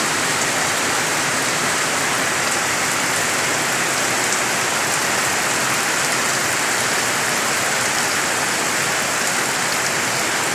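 Steady rain falls heavily and evenly after a windy night in rural Kerala, a dense, continuous wash of drops on surfaces, close and loud, with no voices.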